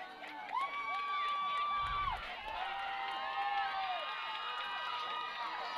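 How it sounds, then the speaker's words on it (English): Spectators at a high school football game between Kanab and Duchesne cheer and shout in a steady, distant crowd roar with whoops rising over it, while a commentator talks nearby. "the crowd's starting to get into it, trying to build up a little momentum for the Eagles here"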